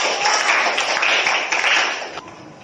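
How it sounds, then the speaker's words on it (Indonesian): A classroom audience applauds a student group after its presentation, a dense wash of many hands clapping at once, loud and sustained, then easing off at the end. "Kasih aplaus untuk kelompok"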